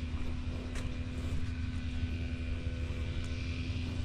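A grass cutter engine runs steadily at a distance, a low, continuous droning hum with a constant tone and no breaks, faint and without talking.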